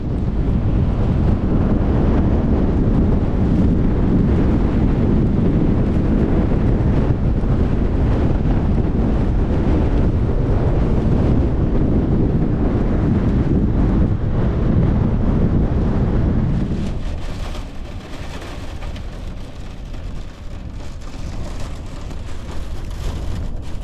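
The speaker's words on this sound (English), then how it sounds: "68, 70 mile an hour winds, gusts, chucking it down with rain" Strong storm wind of around 70 mph roars and buffets the microphone continuously with loud rumbling gusts amid heavy rain, easing slightly toward the end into a hissing, rushing wind.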